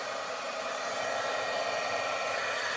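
A heat tool, already hot, roars with a steady fan-like rush as it melts embossing powder during a card-stamping session, loud and unbroken with no voices.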